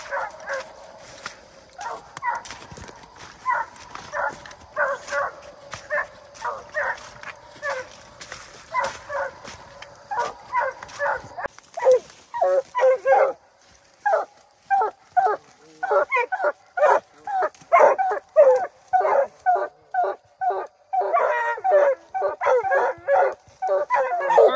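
Coonhounds bark and bay at a tree in the woods at night, a distant chorus of repeated yips and bawls that grows denser and more rhythmic, with faint talk beneath.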